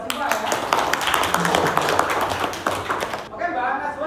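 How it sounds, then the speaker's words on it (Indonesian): Classmates clap for a student in a junior high school classroom, a short burst of mixed hand claps with murmuring voices underneath that fades out near the end. "tepuk tangan untuk Mbak Siva ya."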